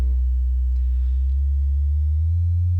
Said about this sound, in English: as the frequency gets higher, the frequency of the sine waves increases